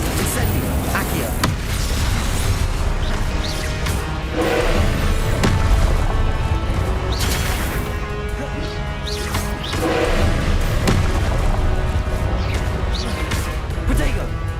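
Fiery Confringo spell blasts in Hogwarts Legacy, repeated bursts and crashes over dense game music and effects, loud and continuous through the scene.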